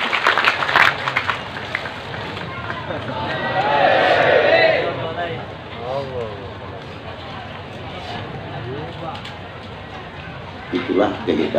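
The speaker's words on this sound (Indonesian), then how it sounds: "Tepuk tangan buat negeri kita." Audience applause rises and peaks around the middle of a religious lecture hall gathering, a broad wash of clapping mixed with crowd murmur and speech before and after.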